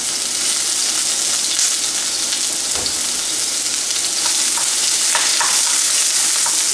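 Onions fry in a hot pan with a loud, close, continuous sizzle and a few scraping stirs, and no voices are heard.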